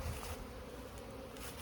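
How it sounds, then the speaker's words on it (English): Honey bees bearding in dense masses on the fronts of their hives, a soft, steady buzzing hum from many insects, faint and continuous over a short stretch. "there's so many bees bearding on the front that they're falling to the ground in giant piles"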